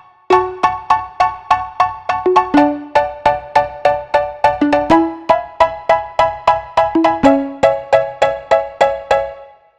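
Two layered synthesizer parts play a melody together, a steady stream of loud, bright plucked notes over a low sustained bed, with a soft reverb tail and no talking.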